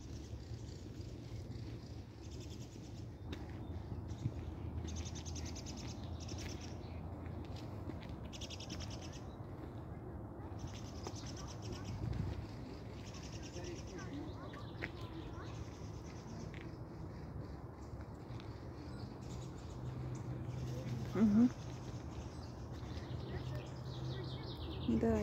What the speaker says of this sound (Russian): Птички радуются.